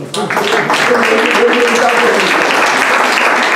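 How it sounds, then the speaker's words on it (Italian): Audience applause fills a hall at a Venetian cultural club gathering in Chioggia, dense and loud, with a voice briefly audible over the clapping near the start. "vi meritate un applauso"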